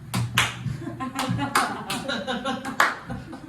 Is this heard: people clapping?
yes